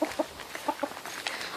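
Chicks clucking close by, a few quick pairs of soft peeping clucks spaced through a short stretch over faint background noise.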